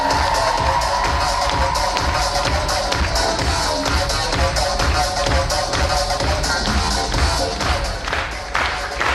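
Dense applause and cheering fill a hall at a KVN comedy league final at Bashkir State University, as the audience cheers the teams in a steady, loud wash of clapping and voices.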